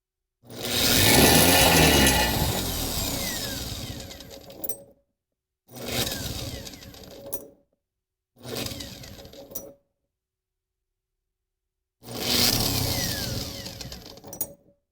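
Mighty Mill portable rock crusher motor spinning up slowly to speed, heard as four loud whirring, grinding runs separated by silences, the first long and sustained, the later ones shorter, close and without talk.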